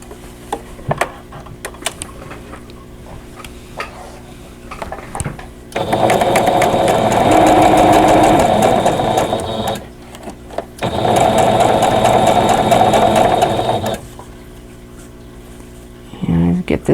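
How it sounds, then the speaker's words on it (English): A sewing machine stitches a pieced border onto a sampler quilt in two steady runs separated by a short pause, loud and close, with quiet handling noises before and after. "I'm going to sew this on."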